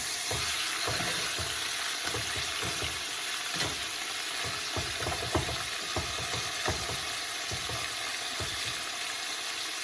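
Meat for osso buco fries in a hot pan, a constant loud sizzle broken by rapid scraping and clattering stirs throughout, close up and with no voices.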